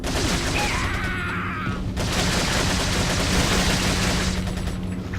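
Rapid gunfire in a Resident Evil 4 gameplay scene, a loud continuous burst of shots with sharp repeated cracks over dense game noise, sustained throughout.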